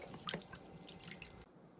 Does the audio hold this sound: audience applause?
no